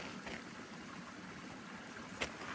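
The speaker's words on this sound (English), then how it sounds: "You hear the water running in the little" Water trickles steadily over a small waterfall at a desert oasis, a continuous soft wash of running water throughout with one brief louder splash near the end.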